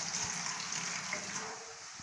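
Water pours steadily into a pot in a continuous gushing stream, close by, tapering off slightly toward the end.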